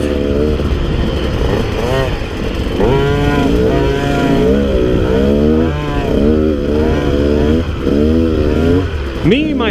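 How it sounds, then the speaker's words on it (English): A KTM 150 XC-W two-stroke dirt bike rides along an easy trail, its engine droning loudly and steadily, with repeated rising and falling revs as the throttle changes. "I'm on the KTM 150 XCW. It's perfectly suited for this type of thing."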